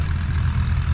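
An old Stover engine-driven generator runs steadily at a gas engine and tractor show, a continuous low, rumbling idle that stays even and close throughout with no talking.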